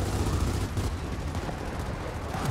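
Enemy gunfire in the video game Gears of War 4 forms a dense, rumbling barrage of overlapping shots and impacts, loud and continuous across the short stretch with no clear gaps.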